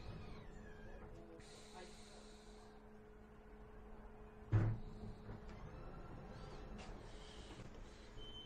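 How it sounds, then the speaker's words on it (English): A vending machine in West Sussex dispenses a jar of honey, with mechanical whirring and motor hum, a sharp thud as the item drops, and faint background noise around it. "They also have this vending machine here, and as you can see, West Sussex honey."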